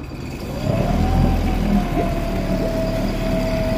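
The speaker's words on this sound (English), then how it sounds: "Engine's running like it should." A 2020 Mercury 20 hp EFI four-stroke outboard runs close by, loud and steady, its note rising briefly as it revs and then settling into an even drone.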